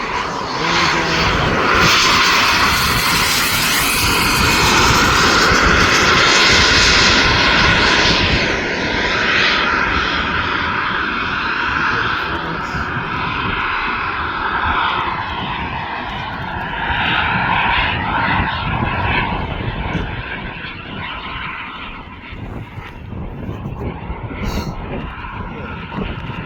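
A scale model airplane's engine roars loudly through its takeoff run at a scale competition, a sustained buzzing whine that holds strong, then gradually recedes and thins as the aircraft climbs away.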